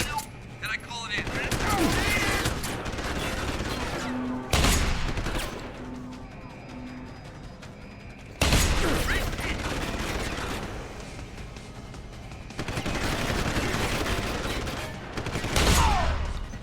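Gunfire from Deus Ex: Human Revolution bursts out in several loud volleys of rapid shots, separated by quieter stretches of ambient game noise and mechanical sounds.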